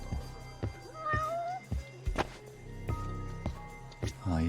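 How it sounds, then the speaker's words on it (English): Cat meowing in the video game Judgement, several short mewing calls over soft background music and game sounds, with a final drawn-out caterwaul. "Oh look, a cat."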